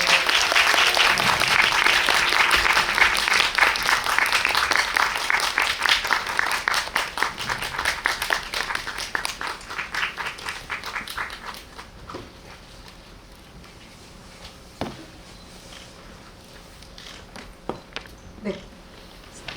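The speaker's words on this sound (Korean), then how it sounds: "뜨거운 박수를 맞아주시기 바랍니다" A theatre audience applauds loudly and steadily to welcome a film director, actors and a writer at a post-screening talk, the clapping gradually thinning and fading out, followed by scattered faint knocks in the quiet room.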